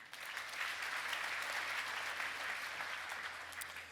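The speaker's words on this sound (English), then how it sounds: "So a little applause," An audience at a CIO conference gives a brief round of applause, a steady wash of many hands clapping that swells quickly and fades toward the end, moderately distant.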